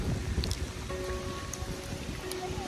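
Steady rain falls on surfaces during a trip in Scotland, a dense continuous patter with scattered distinct drops, fairly close and unbroken.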